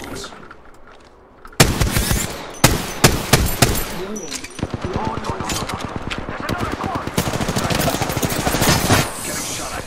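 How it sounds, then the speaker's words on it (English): Gunfire in the video game Apex Legends: a quiet lead-in, then loud separate shots and short bursts give way to sustained rapid automatic fire that runs to the end. "Getting shot at."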